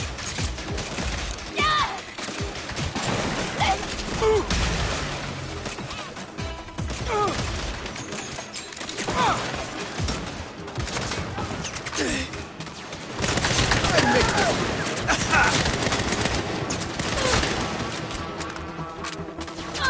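Sniper gunfire in a Saints Row game, a dense stretch of sharp repeated shots and crashing impacts from near and far, with a voice talking over much of it.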